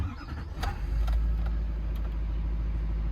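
A 2013 GMC Sierra Denali 3500 diesel engine cranks with a brief squeal, then starts and settles into a deep, loud, steady rumble close by.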